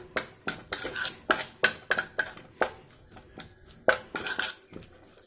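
A spoon mixes lemon juice, masala, onion, cumin and fennel in a metal vessel. It makes a series of sharp, irregular clanks and scrapes, close up, with brief pauses and no voices.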